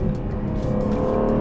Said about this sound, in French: Ça c'est une V8 supercharger. Je pense que c'est un des meilleurs bruits stock dans une voiture de sport.